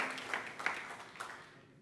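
Brief applause from a church congregation during a sermon, a short patter of clapping that fades out within two seconds, faint and somewhat distant.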